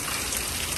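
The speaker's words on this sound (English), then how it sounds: "Because I love the rain." Steady rain falling outside, a brief, even hiss of drops and trickling water heard alone at moderate level.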